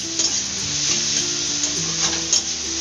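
Vegetables for prawn chops being sautéed in a pan, a continuous close sizzle with a few light stirring scrapes and no voices.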